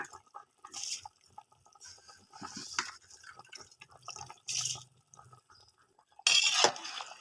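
Washed rice slipped gradually into a pot of boiling water for mutton biryani, making scattered soft splashes, drips and bubbling with a few brighter watery bursts, fairly quiet and without talk.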